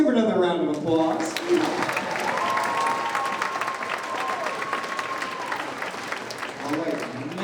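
Sustained crowd applause at a chili contest as winners are called forward, loud and continuous throughout, with scattered voices and a few whistles mixed in.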